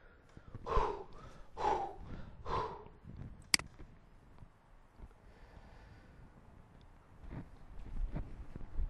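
A voice imitates being out of breath with three heavy panting gasps close to the mic, followed by a sharp click and then softer, quieter breathing.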